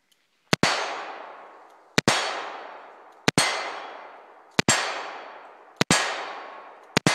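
A Smith & Wesson Model 66 revolver fires light .357 Magnum target handloads with 125-grain Berry's plated bullets over Trail Boss powder: five sharp, loud shots spaced about a second apart, each trailing off in a long echoing decay.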